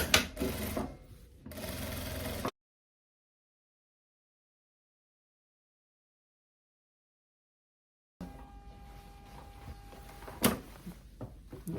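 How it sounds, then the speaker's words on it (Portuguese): Sewing machine stitching a small seam into a garment's fabric lining, a close mechanical whir and clatter in two short bursts separated by a long silent gap. "a gente abre e passa uma costurinha para evitar que esse forrinho fique abrindo."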